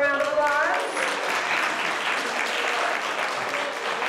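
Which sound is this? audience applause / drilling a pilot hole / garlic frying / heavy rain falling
audience applause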